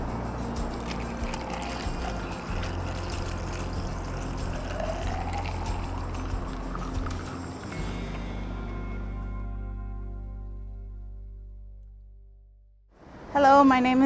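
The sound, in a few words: pouring mamaki tea with honey and lemon into container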